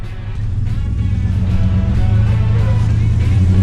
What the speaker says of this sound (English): Sounds like I have an exhaust leak.